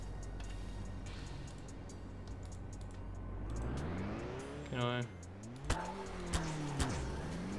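Cars in Garry's Mod rev and accelerate in a derby arena, engine pitch rising and falling in sweeping glides with a few sharp impact knocks, while a voice speaks briefly over the game sounds.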